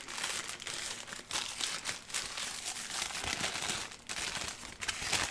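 Paper wrapping on a Taco Bell-style Burrito Supreme is peeled open, giving continuous close, loud crinkling and rustling with small bursts of crumpling throughout.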